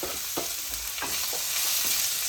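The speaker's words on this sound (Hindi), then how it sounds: "फिर उसमें मैं प्याज डाली हूँ। प्याज डाल दूँ।" Onions frying in a pan for a Bihari-style chicken curry sizzle steadily while a spoon stirs them in several scraping strokes, close and fairly loud with no talking.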